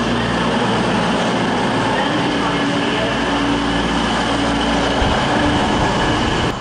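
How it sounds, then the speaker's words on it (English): A Holyhead to London Euston passenger train runs through Milton Keynes Central station, a loud, continuous rumble and roar of wheels and carriages that fills the whole stretch without letting up. "here's a Holyhead to London Euston service"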